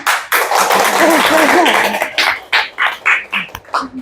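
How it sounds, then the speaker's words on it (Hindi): A church congregation claps loudly during a Hindi-language worship service. The clapping is dense at first, then settles into distinct rhythmic claps, while a voice speaks over it. "आइए इस वचन के लिए जोर से तालियां बजाएंगे"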